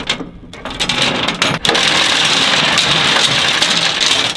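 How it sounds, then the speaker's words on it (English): A small rented Bobcat-style skid steer engine running close by, a loud steady mechanical drone after a brief dip and a sharp knock near the start. "we rented this guy right here, this little skid steer"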